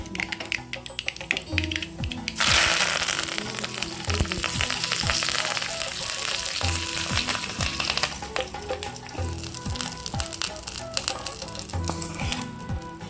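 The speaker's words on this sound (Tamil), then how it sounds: "எண்ணெய் ஊற்றி கடுகு போட்டாச்சு, கருவேப்பிலை போட்டு தாளிச்சிக்கலாம்" Loud, crackling sizzle of mustard seeds and curry leaves spattering in hot oil, continuous and close, with occasional clinks of a utensil.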